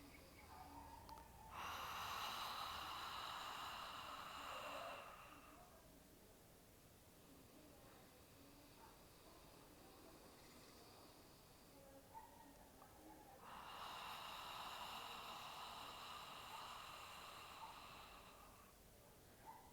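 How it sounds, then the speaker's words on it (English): Ujjayi ocean breath drawn in and out through the nose: two long, airy, hissing breaths a few seconds each, separated by a quiet pause, close and fairly soft. "We will inhale through your nose and exhale. So you can hear the sound."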